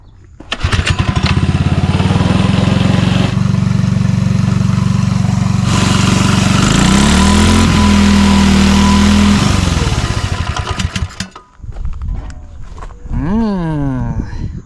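A minibike engine fitted with a homemade muffler built from scrap metal runs loud and close, revving up and down, then drops to a lower idle and revs again near the end.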